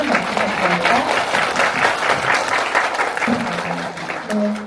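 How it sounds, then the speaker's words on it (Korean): An audience at a cinema talk event claps steadily in a dense, continuous round of applause, with a few voices speaking over it. "오늘 함께해주신 분들께 큰 박수 부탁드립니다."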